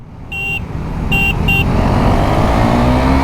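A motorcycle engine roars steadily under full throttle during a roadside race between a Pulsar NS400 and a BS4 Duke 390, with a few high beeping tones over the loud, continuous drone.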